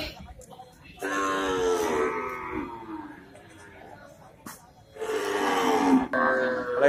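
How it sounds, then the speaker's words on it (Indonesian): A thin cow at a cattle market moos in two long, loud, drawn-out calls separated by a few seconds of quieter background. "Ini susah nih sapi kurus."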